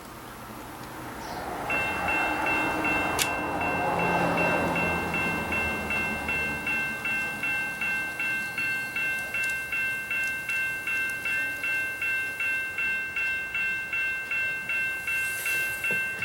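A Kato N scale model train rolls past the sensors of an automatic crossing gate, with a steady rolling hum and a rhythmic, repeating ringing that pulses evenly from start to finish.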